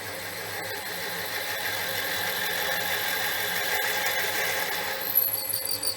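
A steady, continuous motor whine of a power drill boring into cast iron at a constant pitch, close by, with a brief rattle near the end and no talking.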